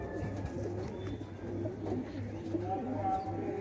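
Pigeons coo in soft, low, repeated rolling calls against a steady background hum, fairly close.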